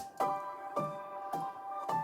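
Pitched-up, glitchy piano line full of digital artifacts, played quietly as four evenly spaced bright notes with a brittle, slightly smeared ring, no voices.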